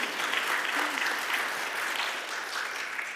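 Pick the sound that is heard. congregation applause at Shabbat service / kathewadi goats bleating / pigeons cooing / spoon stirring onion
congregation applause at Shabbat service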